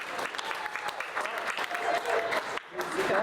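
Audience applause fills a room at a speech event, dense steady clapping from many hands with some voices mixed in, continuous and fairly loud throughout.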